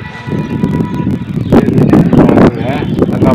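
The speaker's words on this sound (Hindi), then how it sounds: "ठंडी यख हवा चल रही है जी" Cold wind blows outdoors with steady rustling gusts that strengthen midway, and faint rattles and clicks are mixed in with no clear talk.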